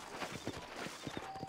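Horse hooves clip-clop in the western video game Red Dead Redemption, a quick, fairly even run of close hoofbeats over a light background bed, with no talk.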